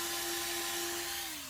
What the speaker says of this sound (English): There's a lot of sanding.